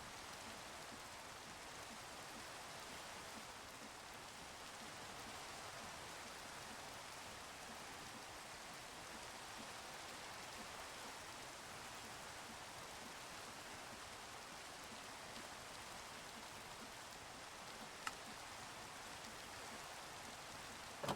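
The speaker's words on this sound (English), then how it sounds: "it feels like it's always raining" Steady, even rain falls in Minecraft, a dense continuous hiss that holds at one level throughout with no other sounds.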